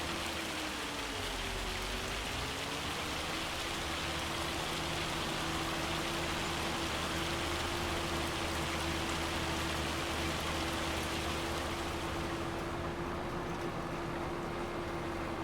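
Steady, unbroken rain hisses through the Farming Simulator game world as a continuous wash of noise, with a faint engine drone humming low beneath it the whole time.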